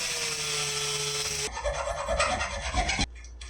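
A threaded fastener clamped in a vise on a Suzuki DR650 adventure motorcycle build is filed or trimmed down, giving a loud steady rasping grind for about a second and a half, then rougher intermittent scraping strokes before a sudden stop.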